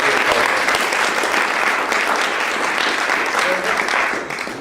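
An audience claps loudly and steadily to welcome a speaker at a faith-in-business talk, dense applause sustained throughout and tapering slightly at the end.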